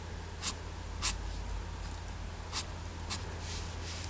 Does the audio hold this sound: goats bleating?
no